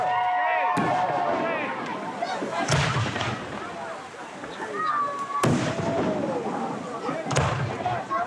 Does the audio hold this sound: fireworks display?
yes